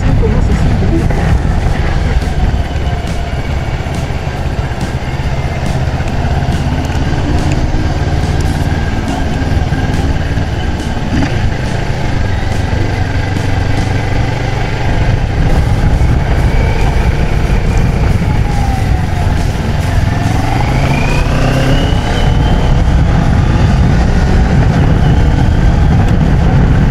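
A CF Moto 650 MT motorcycle engine runs during a 2023 road test ride, a continuous loud engine drone with shifting revs and wind rush throughout, with traffic sounds around.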